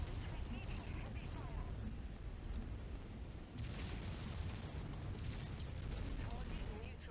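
Buildings blowing up in MechWarrior 5: Mercenaries, a dense, loud rumbling roar of explosions and debris that stays sustained and heavy the whole time.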